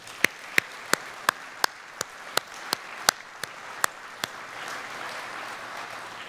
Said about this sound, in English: it might be an opportunity to actually give them a round of applause now.